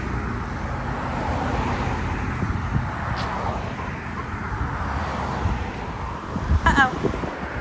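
Cars passing on a road outdoors during dog heeling training, a continuous roadway rumble with wind noise, swelling as vehicles go by and a louder pass near the end.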